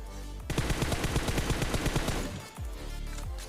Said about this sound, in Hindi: तो यहाँ पर मैं रावण के मार्क पे थोड़ी सी फ्री फायर देता हूँ